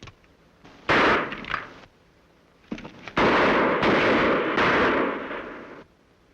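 Gunshots from a Western TV episode ring out as sharp, loud cracks: an early blast, another near the middle, then a heavy rapid volley with long echoing tails, all close and with no talking.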